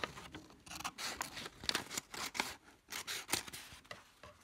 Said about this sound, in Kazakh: Осы шетін қайшымен